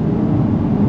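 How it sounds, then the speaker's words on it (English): A heater runs with a steady low broadband roar, continuous and close, filling the whole moment with no talk over it. "This heater noise you can hear running?"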